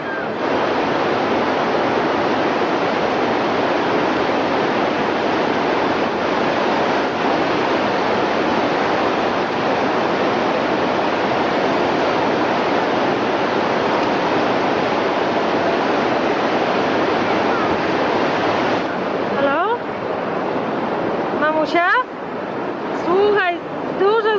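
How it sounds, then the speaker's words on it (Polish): The roar of Niagara Falls, a loud, dense, continuous rush of falling water heard up close, with people talking briefly near the end over the steady noise. "Jesteśmy nad Niagarą, nad wodospadem. Jesteśmy na... Tak, właśnie, posłuchaj szumu wody."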